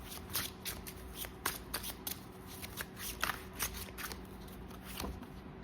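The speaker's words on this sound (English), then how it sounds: "Let's pull these cards." A tarot deck being shuffled at a reading, a steady run of crisp riffling card bursts close by, with no voices over it.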